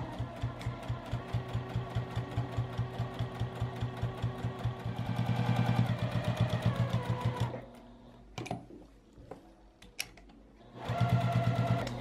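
A sewing machine stitching fabric for a drawstring bag, a fast regular mechanical chatter that runs steadily, pauses for a few seconds with faint handling clicks, then resumes briefly.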